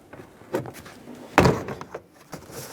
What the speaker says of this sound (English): We'll start separating the inside door panel from the door itself. Come right down along this area. Make our way in between and gently pry.